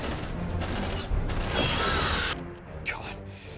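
Squad gunfire in the video game Aliens: Dark Descent, a dense stretch of rapid shooting and mechanical clatter that thins out near the end, fairly loud, with voices talking over it.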